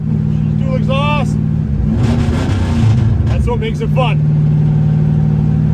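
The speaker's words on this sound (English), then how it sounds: "So I apologize about the noise. It's loud, she's dual exhaust." A 1967 Ford Galaxie with a 302 Torino engine and dual exhaust rumbles loudly throughout, a steady low burble that swells when it revs in the middle, with someone talking over it.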